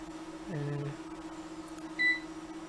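A MicroVAX 3100-90 computer terminal setup sounds a security alarm at the login prompt: two short electronic beeps, one lower and one higher, faint against a steady background hum.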